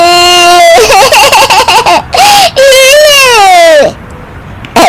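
An infant-like voice wails and sobs loudly in several rising and falling bursts with giggly breaks, sounding close and strained, apparently an adult imitating a baby crying in a domestic drama.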